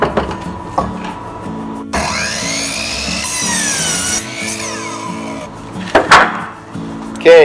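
Power saw cutting wood for beehive screened bottom boards, a steady close cutting whine rising and falling through several passes, with knocks and handling noises between cuts.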